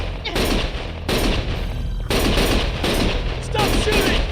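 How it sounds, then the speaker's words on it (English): In Lost Judgment, played on PS5, bursts of rapid gunfire and machine-gun fire rattle in repeated loud volleys with short gaps between them. "Stop shooting!"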